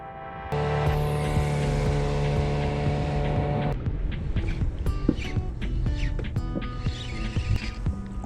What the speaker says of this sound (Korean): 고무보트 310 사이즈의 15마력